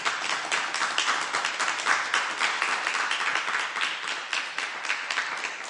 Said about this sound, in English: You're applauding me